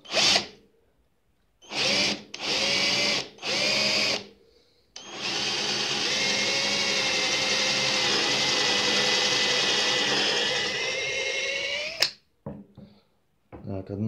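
A power drill bores a hole into a 7.62 cartridge case for a homemade hanger, starting with three short bursts, then one long steady whine of about seven seconds, close and loud, with no talk over it.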